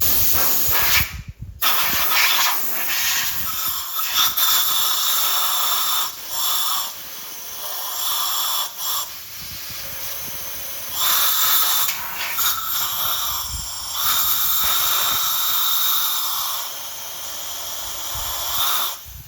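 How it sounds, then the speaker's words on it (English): Compressed air hisses in repeated bursts while blowing dry a cleaned brake caliper and its pin bores, loud and close with short pauses between blasts and no talking. "I'm going to use some compressed air to dry everything off."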